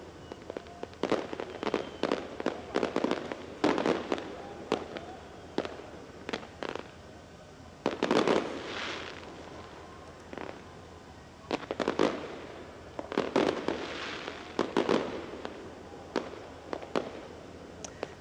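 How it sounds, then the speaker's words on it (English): Fireworks set off by celebrating football fans near the Eiffel Tower, a string of sharp bursts and crackling pops coming in dense clusters with short gaps, loud and carrying, with no talk. "fans set off fireworks in celebration"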